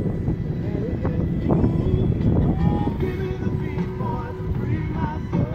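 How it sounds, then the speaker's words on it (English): Warm, windy weather outdoors while catfishing: a steady, loud roar of wind buffets the microphone for the whole stretch, with some muffled talk mixed in. "It's windy,"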